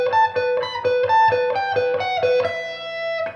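Electric guitar through a pedal plays a slow lick drawn from the E natural minor scale, picked notes repeating in a steady pattern before settling onto a sustained final note; clean, close and alone.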